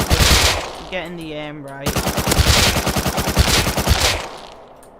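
Rapid automatic MP5 fire in the video game Rust, loud dense bursts of shots filling the clip, with someone talking briefly during a short pause.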